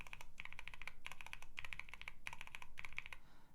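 Rapid bursts of typing on lubed and filmed budget mechanical switches in a QK65 R2 keyboard, deep, muted clacks landing in quick clusters separated by short pauses, recorded up close.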